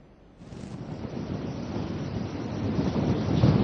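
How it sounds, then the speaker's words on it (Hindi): Strong cyclone wind roaring over the sea at the coast of Gopalpur, Odisha, blowing at over 125 km/h: a dense, buffeting rush of air that steadily builds in loudness, close to the microphone, with no voices. "इस वक्त 125 किलोमीटर प्रति घंटे से ऊपर की रफ्तार में हवा चल रही है।"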